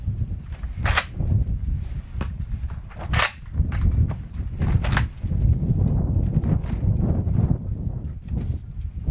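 A Rheinmetall Volkssturm bolt-action carbine fires in live shooting: several sharp cracks spaced a second or two apart, with softer mechanical clatter and rumble between the shots.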